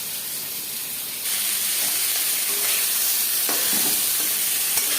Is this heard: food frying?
yes